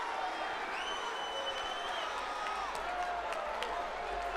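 Crowd noise at a women's professional boxing match between Claressa Shields and Szilvia Szabados: a steady roar and murmur from the arena with a few whistles over it, continuous throughout.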